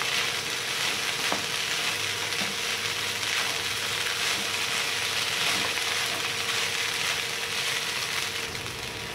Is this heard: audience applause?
no